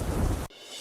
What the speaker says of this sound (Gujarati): ગાજવીજ સાથે વરસાદ પડતા વિઝિબિલિટીમાં પણ ઘટાડો થયો હતો.